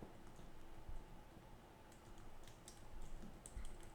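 Quiet key taps tick across a computer keyboard ending with a press of the enter key, faint and close against a low hum.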